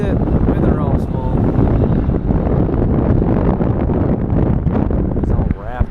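Strong gusts of wind sweep across Mountain Island Lake during bass fishing from a boat, a loud, steady buffeting roar over the microphone, with faint voices partly buried underneath.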